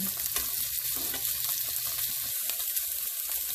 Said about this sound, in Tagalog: I-brown lang natin siya konti. I-brown natin both sides.